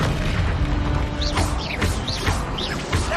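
In Hogwarts Legacy, Confringo spell blasts go off as a steady fiery rumble, with several whooshing bursts close together and no speech.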